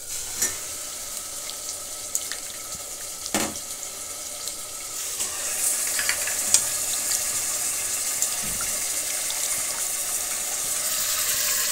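Goat meat sizzling and frying in a hot tadka in a pan, a steady crackling hiss that runs continuously with occasional sharper pops and a faint clink, close and moderately loud, with no talking.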